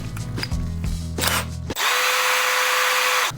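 A handheld power drill with a roughly quarter-inch bit bores straight down into a wooden microphone stand, first in short bursts, then in a steady, loud, sustained whine.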